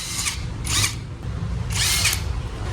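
Power tool unfastening two 8mm throttle body bolts on a Honda ADV 160 scooter, three short bursts of high-pitched whirring with pauses between, close and fairly loud over a low steady hum.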